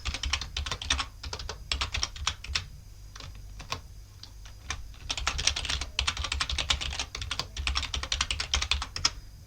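Computer keyboard being typed on to enter an email address, with bursts of quick, crisp key clicks and brief pauses between groups, close and clear without talk.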